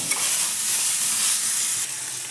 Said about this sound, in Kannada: ಇವನು ಕೂಡ 1-2 ಸ್ಪೂನಷ್ಟು ಎಣ್ಣೆ ಹಾಕ್ಕೊಂಡು ಫ್ರೈ ಮಾಡ್ಕೋಬೇಕು.